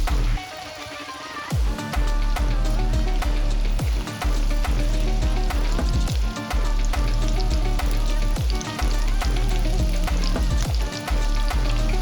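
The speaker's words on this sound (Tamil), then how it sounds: "ஸோ நம்ம இதில் தான் பொரிக்க போகிறோம்." Loud, continuous sizzle of soya kebabs frying in hot oil in an old kadai, with occasional scraping and clinks as they are stirred.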